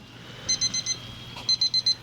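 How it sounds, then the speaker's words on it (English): Alarm going off beside an offset smoker while a beef roast smokes outdoors, two quick runs of four high electronic beeps over faint background hiss, no talk. "So our alarm is going off."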